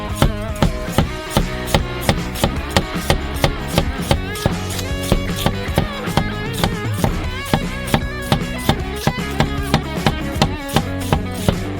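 Knife chopping food on a cutting board, with steady rapid strikes repeating close and crisp throughout, with no talking.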